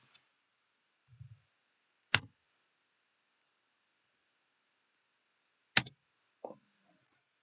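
Sparse mouse clicks while copying parts of a drawing in a CAD program: a few sharp isolated clicks, with two stronger ones near the start and end, separated by quiet gaps and faint small taps.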